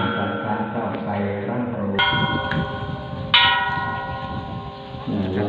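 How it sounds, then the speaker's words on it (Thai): Bells ring at Phra That Renu temple in Nakhon Phanom, clear metallic strikes with long sustained ringing tones, two louder strikes standing out, over a busy crowd murmur at a festive holiday gathering. "อันนี้ก็คือระฆังนะครับ"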